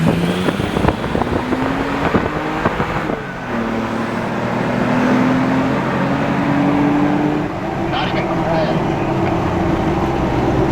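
A truck camper and a Sprinter van accelerate side by side in a drag race, their engines droning and rising in pitch under heavy wind noise. A brief shift in tone comes midway.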